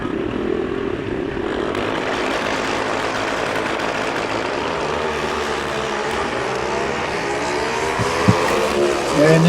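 A drag racing motorcycle at the 2019 Mancup World Finals runs down the racetrack, a loud, steady, broadband engine roar that holds for several seconds and swells slightly near the end, with no talk.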